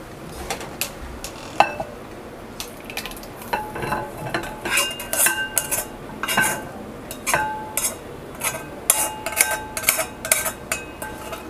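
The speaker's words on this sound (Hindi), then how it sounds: "ये मेरा रूम टेम्परेचर पर आ गया है रबड़ी, तो इसको हम लोग एक बाउल में निकाल लेंगे।" A spoon scrapes and clinks against a pan and bowl while mango rabdi is transferred out, giving irregular metallic taps and scraping strokes, close and fairly loud, with no talking.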